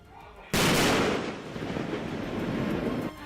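A single loud artillery blast during an army drill bursts in abruptly and alone, then trails off into a long, rumbling decay.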